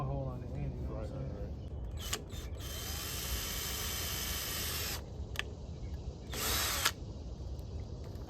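A power drill bores a single hole in a custom wickerbill (rear spoiler lip) for a 2005-2009 Ford Mustang GT, whining in two short bursts of a few seconds each, close by and fairly loud over low background noise.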